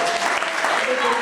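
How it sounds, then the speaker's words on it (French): Congregation applauding for the Lord at a French-language church service, a dense, steady wash of clapping that fills the whole moment without a break. "Est-ce qu'on peut acclamer pour le Seigneur?"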